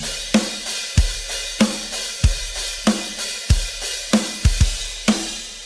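Drum kit playing a simple straight kick-and-snare groove, punchy close hits alternating steadily, about ten strikes in under six seconds, loud and alone with no talk.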